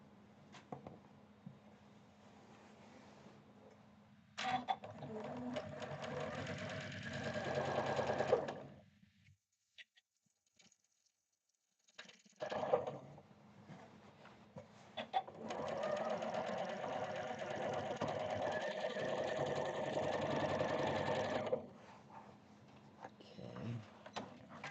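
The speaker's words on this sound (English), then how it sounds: "Let me go ahead and sew these two together." Sewing machine stitching quilt blocks together, running in two long bursts of rapid mechanical whirring separated by a quiet pause, close and fairly loud, with a brief clack between runs.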